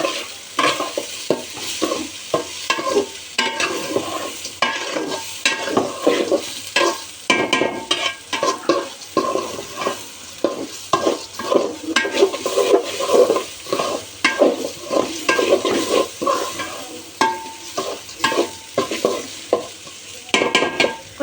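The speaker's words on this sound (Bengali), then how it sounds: "একটু ভেজে নিব আর কি হালকা" Spices and garam masala are lightly fried and stirred in a pot for egg khichuri, with rhythmic scraping strokes of a spoon repeating over a soft, steady sizzle.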